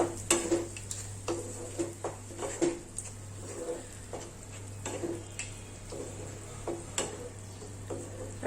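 A spatula scrapes and taps through doi katla masala cooked with sour curd and salt in a pan over a low gas flame, with irregular clinks and knocks over a steady low hum.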